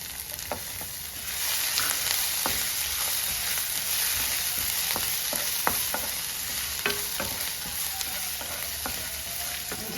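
Dry red chillies and finely chopped ginger frying in hot oil with popping mustard seeds, a steady sizzle with scattered sharp crackles and pops and occasional spoon scrapes against the pan, close and continuous.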